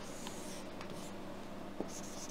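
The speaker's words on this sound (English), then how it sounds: "Okay, so I'll write it here just so I have" Pen writing on paper beneath a steady background hiss, with soft scratchy strokes coming in short bursts and a small tap near the end, faint and close.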